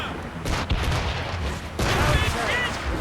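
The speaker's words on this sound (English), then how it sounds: "They're firing, sir!" Naval cannon fire from an enemy ship in Assassin's Creed Rogue, heavy booming volleys rolling over one another in sustained bursts close by, with shouting voices in the mix.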